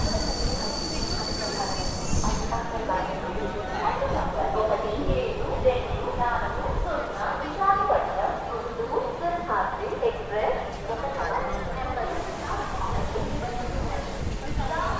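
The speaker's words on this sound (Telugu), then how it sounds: "సో మన ట్రైన్ వచ్చేసి తునికి అయితే వచ్చిందండి" Simhadri Express passenger train standing at Tuni station: steady rumble and platform noise underneath continuous crowd chatter and talk throughout.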